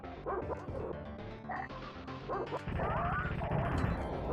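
Repeated barks and yips from a dog in a retro video game, loud and close with a brief crash, over a busy game soundtrack.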